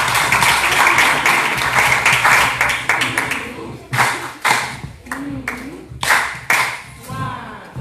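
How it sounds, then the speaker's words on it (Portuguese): Audience at a children's summit in Mozambique clapping for the children, a brisk burst of applause that thins into a few scattered, separate claps with voices talking over them. "pedir a sua permissão para todos nós batermos palmas pelos nossos amiguinhos"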